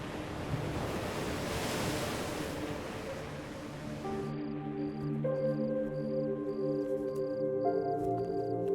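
Surging water washes in a steady, wave-like rush as a house floods in a Hindi TV drama scene, then fades under soft sustained musical tones.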